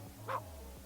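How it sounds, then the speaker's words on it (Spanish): A dog gives a single short, faint bark, somewhat distant, over a quiet background hum. "Ramón se despertó al oír ladridos de perros a lo lejos"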